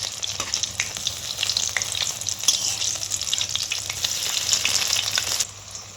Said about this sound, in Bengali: এবার আমি বাকিগুলো এই একইভাবে ভেজে নেব।